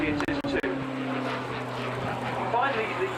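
A propeller aeroplane flies aerobatic manoeuvres at a 2014 air show, its engine drone held steady beneath a commentator talking over the public address.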